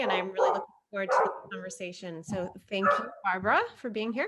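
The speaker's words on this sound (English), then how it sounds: "I apologize for my dog" A dog barks repeatedly in the background while someone speaks continuously over it, the barking partly masked by her voice.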